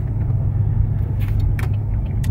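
A car with a broken exhaust weld sits idling, its steady low rumble running throughout with faint scraping and rattling on top, close and alone with no talking.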